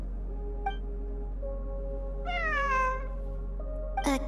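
A cat in the video game Genshin Impact gives one clear, drawn-out meow over a steady low hum, followed by a short sharp chirp-like sound, with no talking.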